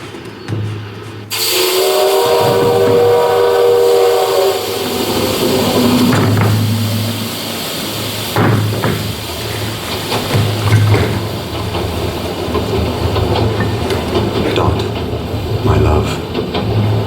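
A steam train whistle sounds with a long tone, followed by rumbling, hissing and clanking of a locomotive and rail cars.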